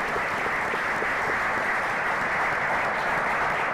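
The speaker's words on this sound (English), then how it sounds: "Let's clap it up for the brothers for being honest." Steady, dense audience clapping fills a symposium room, loud and continuous without pause for its few seconds, no voices standing out.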